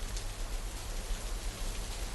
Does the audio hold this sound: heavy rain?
yes